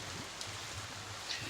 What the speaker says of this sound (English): It's raining again. It rains a whole lot down here in Nolans.